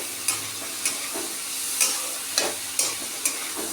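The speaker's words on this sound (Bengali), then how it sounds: "এবার বরবটিটাকে খুব ভালো করে ভাজা করে নেব নুন হলুদ দিয়ে" Long beans frying in a pan with salt and turmeric, a continuous hissing sizzle broken by regular sharp clinks of a spatula stirring every half second or so.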